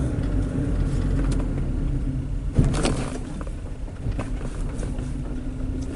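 A Mitsubishi Lancer with a stuck brake switch and lost power turns around, its engine rumbling low and steady from inside the cabin. A brief thump lands midway, and there is no talking.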